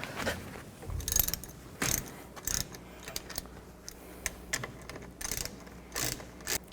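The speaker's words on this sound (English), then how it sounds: "use a 18mm socket. I'm just going to loosen this top one up." A ratchet with an 18mm socket loosens a bolt near the leaf spring on a 1999–2007 Chevy Silverado 2500, with close, irregular bursts of clicking between short pauses.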